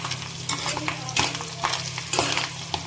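Fish eggs frying with salt and turmeric are stirred in a pan, giving a steady close sizzle broken by repeated scraping stirs, with no talking.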